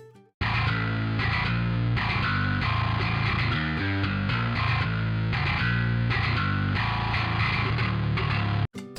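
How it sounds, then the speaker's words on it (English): Distorted crunch track of a metal bass guitar with the high end rolled off by EQ, playing a dense, continuous riff alone at steady loudness before cutting off abruptly near the end. "This is what the crunch track sounds like"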